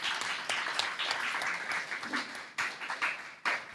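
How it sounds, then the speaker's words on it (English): Scattered applause at a press briefing for a primary schools' football tournament in Nevis, with individual claps standing out in uneven bursts from a modest, nearby group. "the youngsters really deserve a round of applause for that"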